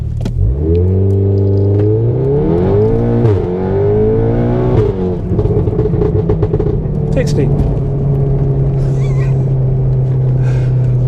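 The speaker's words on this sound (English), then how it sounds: "Race, okay, I'm not going to use launch, but let's just floor it and go." A 520 hp Mk7 VW Golf R tuned by Racingline, floored at full throttle in race mode: loud, close engine drone climbing steeply in pitch, a brief dip at an upshift, then a strong steady pull with people talking over it.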